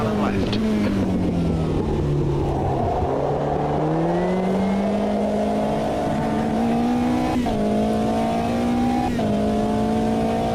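Race car in the Automobilista 2 sim racing game, its engine droning steadily and climbing in pitch, with quick gear-shift breaks near the end, loud and close throughout.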